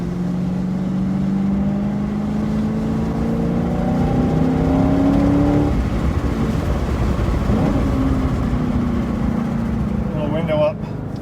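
A car engine revs and pulls away onto a race track in the rain, its rising whine climbing in pitch under steady road and rain noise, with a voice talking over it.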